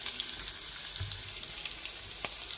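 Onions fry in oil with fennel seeds in a pan while cooking a green gram kuzhambu: a dense, even crackling sizzle, close and steady throughout, with a single sharper pop near the end.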